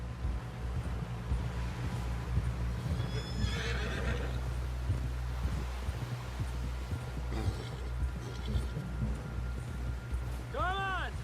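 Horse neighs and hoofbeats in Red Dead Redemption 2, a steady clip-clop under a constant low rumble with a loud whinny at the very end.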